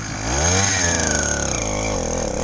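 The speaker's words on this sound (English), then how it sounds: "you can let the clutch out from a dead stop like this and get it moving" A motorized bicycle's small engine revs hard as the clutch is let out from a dead stop, its loud buzzing whine climbing and wavering in pitch, close and unbroken, with no talk.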